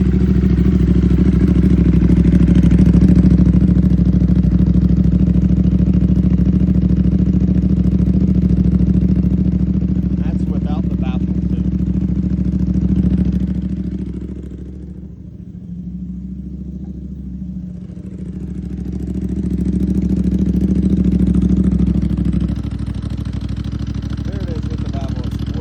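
An Aprilia RS660 Factory fitted with a Mivv XM-1 exhaust idles after a true cold start, a steady low rumble that fades midway, then swells again before settling, with a person talking over it.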